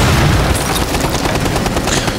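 Dense, loud gunfire bursts in a Rainbow Six Siege ranked match, rapid shots blending into a continuous booming barrage that runs through the whole moment.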